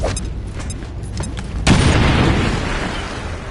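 A grenade explodes in a video game with a sudden loud boom that rolls into a long rumbling decay, after a stretch of clicky gameplay noise and faint gunfire.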